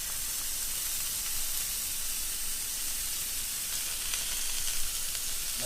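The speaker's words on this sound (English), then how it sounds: "you only want to cook the steak on it for 2 or 3 minutes per side" Steak bites with garlic sizzle and fry steadily in a hot pan, a continuous close hiss with small crackles that holds at even loudness throughout, with no talking.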